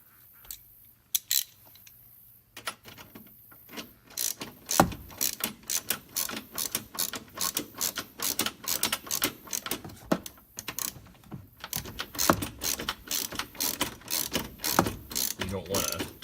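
Ratcheting tool tightening a screw on a broken dash tab repair in a Ford F-Series or Bronco, a close series of rapid clicking ratchet strokes in bursts with short pauses, no talking.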